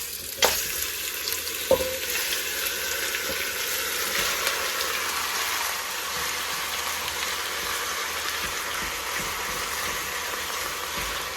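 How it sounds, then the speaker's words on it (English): Goat meat for a brown stew browns in a hot pot with a loud, continuous close sizzle and frying hiss, opened by a couple of sharp knocks as the meat goes in. "I like it to settle in that browning for about 3 minutes before I start turning."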